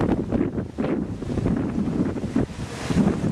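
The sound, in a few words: wind blowing after Hurricane Irene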